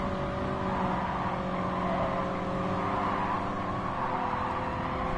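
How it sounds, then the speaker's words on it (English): Steady engine drone of a car accelerating in the Gran Turismo racing game, a continuous whining note sustained throughout with no gaps. "Oh, my car has developed a bit of a whine."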